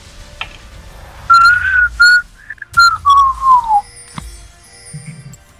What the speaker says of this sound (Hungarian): Ne fütyülj, légy szíves!